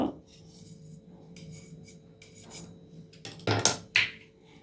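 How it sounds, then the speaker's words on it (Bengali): An egg is beaten in a bowl for pudding, with quiet scraping and rubbing at the start, then sharper clinks and rattles of utensil against the bowl near the end. "ডিমটা ফেটিয়ে নিই।"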